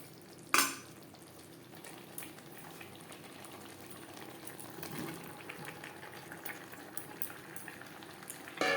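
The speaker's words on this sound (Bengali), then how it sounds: "মশলার সাথে সবজি আরও 4-5 মিনিট নাড়াচাড়া করে নেব।" Fried vegetables cooking in a curd masala, a low bubbling simmer with soft stirring and scraping throughout, opened and closed by a sharp clatter of utensils, fairly quiet and close.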